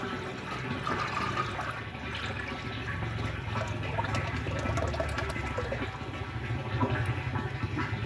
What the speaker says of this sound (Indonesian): kita masukkan ke dalam tandon yang berisi air sekitar 100 sampai 150 liter